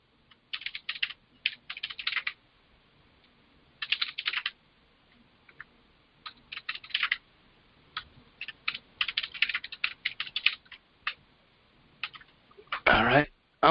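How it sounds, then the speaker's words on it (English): Close computer keyboard typing in quick irregular bursts of clicks separated by short pauses, with a louder flurry of keystrokes near the end; no one speaks. "I'm just typing in now."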